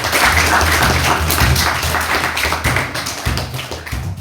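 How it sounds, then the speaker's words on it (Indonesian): Audience clapping during a teaching session on managing emotions, loud, close clapping with a rough rhythmic pulse that carries through the whole stretch. "kasih tepuk tangan dulu"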